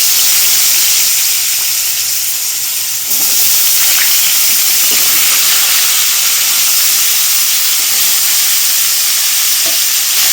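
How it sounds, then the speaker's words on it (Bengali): Cut potatoes drop into hot oil left from frying fish heads. The sizzle is loud, close and continuous, and it jumps up sharply as the pieces go in, then holds a strong, steady hiss. "ওই তেলে এখন কেটে রাখা আলুগুলো দিয়ে দেবো।"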